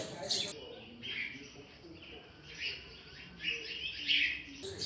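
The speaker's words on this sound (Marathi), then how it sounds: "समोर आपल्याला या ठिकाणी एक चिमणी बसलेली दिसत आहे" House sparrows chirp in short, bright bursts at intervals over a low background hum, moderately close, in the village of Pisavare near Bhor, Pune.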